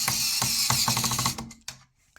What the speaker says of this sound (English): the only tool I've got to use is this, my portable motorized screwdriver